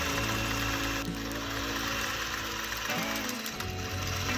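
Sewing machine stitching beeswax wrap fabric, a steady mechanical whir with a brief pause near the middle as the fabric pivots before it resumes, close and continuous.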